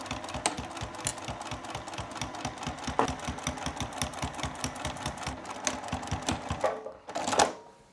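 A sewing machine fitted with a zipper foot stitches the top seam of a fabric makeup bag, a rapid even mechanical clatter running for several seconds before stopping with a brief rustle.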